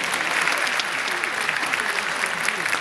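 Audience applause at the opening night of a Tunisian song festival, dense steady clapping from a large crowd that continues unbroken throughout.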